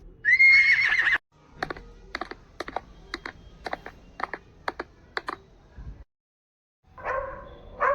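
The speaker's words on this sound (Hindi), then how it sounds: "ये है बच्चों हॉर्स। हॉर्स को हिंदी में घोड़ा कहते हैं।" A horse gives a loud, close whinny lasting about a second, followed by a quick run of sharp clicking taps and then a second short, harsh horse call near the end.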